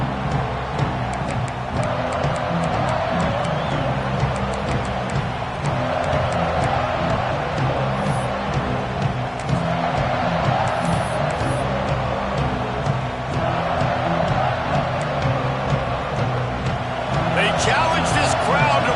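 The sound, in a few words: stadium crowd cheering at a football game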